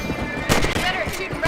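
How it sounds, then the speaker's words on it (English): Rifle shots fired at rabbits in the Western video game Red Dead Redemption, a few sharp reports at close range over outdoor game ambience, with faint horse sounds in the mix. "Better at shooting rabbits than outlaws, I see."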